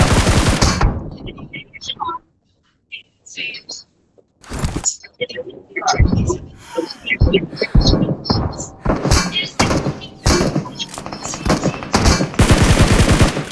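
Rapid bursts of gunfire in a 3v3 online shooter match, with loud automatic volleys and single shots clustered through the round. A brief lull sits near the start, then dense back-to-back firing runs close and heavy to the end.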